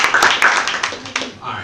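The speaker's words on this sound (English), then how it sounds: "Clap it up, clap it up." An audience at a youth empowerment talk show breaks into a quick burst of scattered clapping close by, mixed with loud voices, and the applause thins out after about a second and a half.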